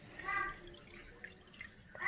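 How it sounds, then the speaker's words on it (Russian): Filtered water poured into the inner cup of an IVA-II silver water ionizer, with faint dripping and trickling that rises and falls in short, soft surges across a quiet background. "Сначала заливаем во внутренний стакан воду по риску"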